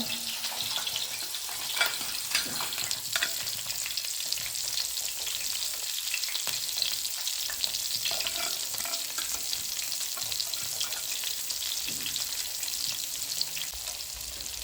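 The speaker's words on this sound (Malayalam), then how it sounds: "നമുക്കത് ലോ ഫ്ലെയിമിലിട്ട് നന്നായിട്ടൊന്ന് ഫ്രൈ ചെയ്തെടുക്കാം" Masala-coated fish (avoli, pomfret) with curry leaves and roasted coconut frying on low flame, a constant even sizzle throughout with faint stirring scrapes, close and unbroken, no talk.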